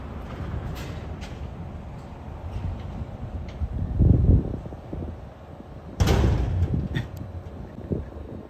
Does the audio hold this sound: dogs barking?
no